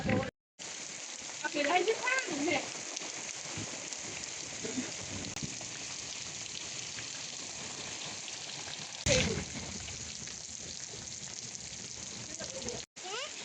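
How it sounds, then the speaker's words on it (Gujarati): Rain falling steadily during a windy downpour, a constant hiss with louder bursts near the start and middle, heard at an even moderate level with a few brief sounds of movement. "બરોબર વરસાદ ચાલુ થઈ ગયો છે"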